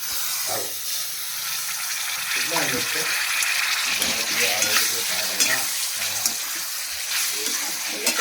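Potatoes with tomatoes frying in a pan at a village home, a continuous hissing sizzle with intermittent stirring scrapes throughout, close up and fairly loud.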